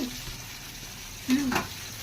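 Chicken pieces fry in a pan with a soft, steady sizzle and faint stirring, fairly quiet, with a brief louder hiss near the end.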